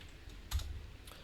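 Keystrokes on a computer keyboard entering a course name in a Java program, a few soft close taps with a brief louder cluster near the middle, quiet and alone.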